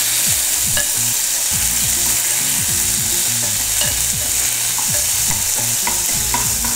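Ginger garlic paste sizzles and crackles in hot oil with whole garam masala over a low flame, a steady close frying hiss with frequent spatters and stirring clatter throughout, no voices.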